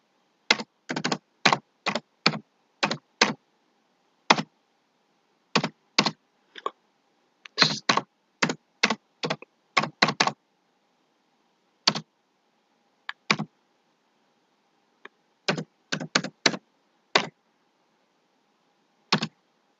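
Keystrokes on a computer keyboard while typing in MS Word arrive in short bursts of crisp, close clicks, separated by pauses of silence, with no voice.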